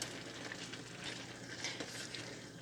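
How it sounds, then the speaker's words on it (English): Food frying in a pan being stirred, a steady close sizzle with scraping stir sounds throughout, no voices. "Stir it up. Get everything incorporated."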